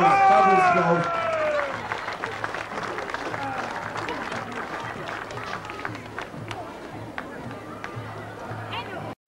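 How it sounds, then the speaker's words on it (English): A crowd at a St. Patrick's Day parade in Castlebar, County Mayo, Ireland applauds loudly, steady clapping that fades gradually, with a voice speaking over the start. "Give him a big round of applause"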